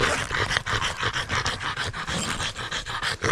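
Dogs panting hard and fast during a rest stop in a forest, a continuous rhythmic breathy pant close up and fairly loud, with no talking.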